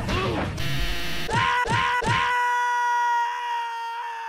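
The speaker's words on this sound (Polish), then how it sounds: "oni krzyczeli tak głośno, że musisz być przerażający" Characters in a game scream loudly, with several overlapping shrill yells and sharp hits, ending in one long sustained tonal cry.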